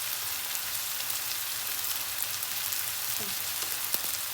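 A tomato masala fries in a pan, with coriander powder about to be added, making a continuous sizzle and hiss with a few faint clicks of stirring, no talk.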